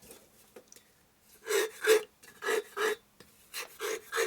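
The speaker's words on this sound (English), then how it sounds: "That was 2 strokes with the fine stone." Cylinder from a 1965 Harley-Davidson panhead 74ci engine honed with a fine stone: soft, close rasping strokes in a loose rhythmic series, each a brief abrasive rub, following a quieter start.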